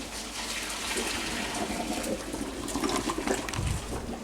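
Pasta cooking water being poured from a pot into a bolognese sauce, a steady splashing gush that swells and ends with a brief burbling, fairly faint and close, no talking.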